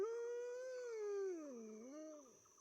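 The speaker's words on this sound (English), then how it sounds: "Then another howl is heard echoing from somewhere in the canopy" An eerie, drawn-out howl echoes through a jungle canopy, starting steady and then sliding down into a wavering, mournful tail, heard alone against silence.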